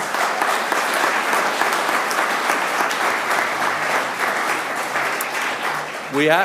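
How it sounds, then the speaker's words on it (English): A room full of people at a city council oath-of-office meeting applauds, dense sustained clapping holding steady for several seconds before a voice begins to speak at the very end. "One more round of applause for them."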